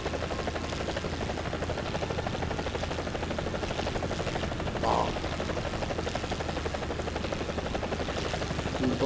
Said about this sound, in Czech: Tady vidíte vrtulník, který právě sejmul kolegu.